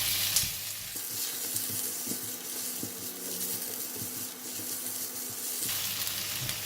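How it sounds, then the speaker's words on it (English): Prawns and fish cake sizzle in hot oil in a wok for Kuey Teow Tom Yum, a steady loud frying hiss with stirring scrapes and a brief lull midway. "Next, I'm going to put in the prawns and the fish cake."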